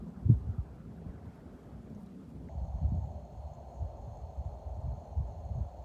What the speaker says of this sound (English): a lot of wind, that's for sure.